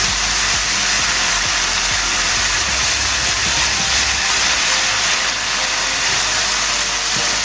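Dry Spanish white wine hits a hot pan for a chicken, chorizo and white bean cassoulet, giving a steady, loud hiss and sizzle of steam that stays constant and unbroken throughout, with no voices.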